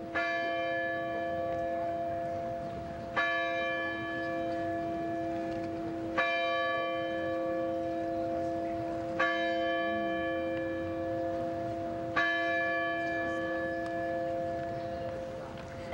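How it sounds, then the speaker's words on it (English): Church bells ring at a Phillips Exeter graduation ceremony in Exeter, New Hampshire, with a fresh strike roughly every three seconds over a steady sustained hum, clear and fairly loud with no talk. "Let us listen to the bells. Remember those bells."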